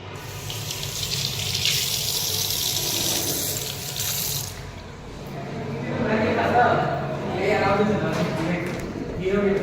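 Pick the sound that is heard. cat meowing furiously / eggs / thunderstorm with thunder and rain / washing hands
washing hands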